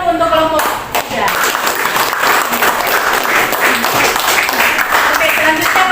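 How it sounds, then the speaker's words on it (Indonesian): A classroom group claps enthusiastically for the third presentation group in an Indonesian school lesson, a dense, close burst of applause that continues for several seconds with voices mixed in. "tepuk tangan dulu untuk kelompok 3"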